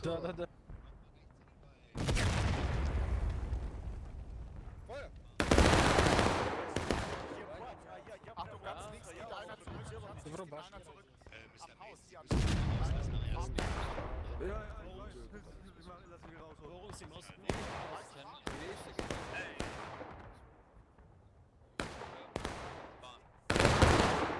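Musket volleys and cannon blasts boom in the Civil War game War of Rights on Nicodemus Hill, heavy loud bursts separated by quieter stretches where voices talk.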